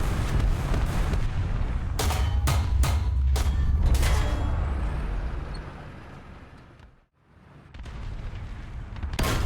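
Tank cannon and gunfire in the War Thunder combat game, a KV-1 engaging an American SPA, with several loud sharp shots in quick succession over a steady engine rumble, then a brief lull before the rumble returns.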